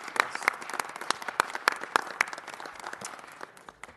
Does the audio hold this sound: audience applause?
yes